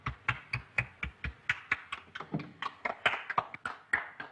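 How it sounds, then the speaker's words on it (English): Applause from a small group in a 1932 film scene, a run of sharp, steady hand claps lasting several seconds, close and clear with no talking. "Applaud."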